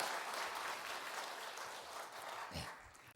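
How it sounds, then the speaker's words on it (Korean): Congregation applauding in a church during a Sunday service, a dense, steady wash of many hands clapping at moderate distance, easing slightly toward the end. "우리 집사님께 크게 박수 한번 드리겠습니다"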